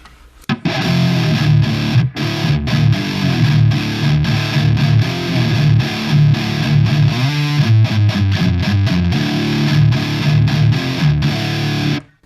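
A heavily distorted electric guitar chugs and strums through a Koch Supernova amp with its low boost engaged, giving a thick, boomy low end, loud and continuous, with fast picked bursts near the end.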